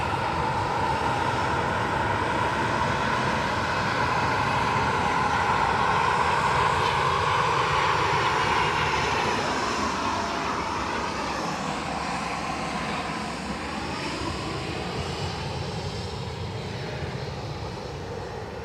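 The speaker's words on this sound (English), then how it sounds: "So ATR inbound from Dublin." An ATR turboprop airliner arriving from Dublin at Edinburgh Airport drones steadily and loudly throughout, its engine tone swelling mid-pass and then easing slightly, with no talk over it.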